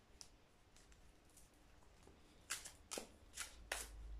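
Ostara Tarot cards shuffled by hand for a reading, quiet at first with faint handling, then four crisp riffling bursts near the end, close and soft.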